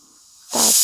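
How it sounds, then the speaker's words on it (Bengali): A pressure cooker whistle bursts into a loud steam hiss about halfway through, after a quiet stretch with faint kitchen noise, while fried rice is being cooked. "তারপর এখানে প্রেশার কুকারে আমার সিটি মারছে"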